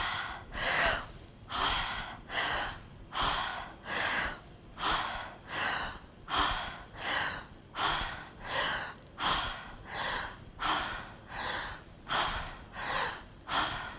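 Strong, rhythmic breaths drawn through the mouth during a group breathing exercise at a flow-state workshop at a festival in Bali, about sixteen forceful gasping inhale-exhale cycles in steady succession with no talking.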